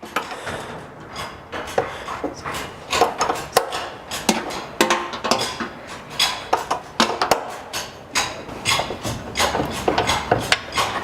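A wrench works a hood strut bolt loose on a 2010 Subaru Forester, giving a steady run of close, sharp ratcheting clicks and metallic scrapes with no talking.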